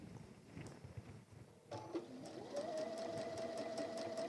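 Domestic sewing machine stitching a lined apron, faint handling at first, then the motor starting up and running at a steady whirring pace with rhythmic needle clatter, close and alone.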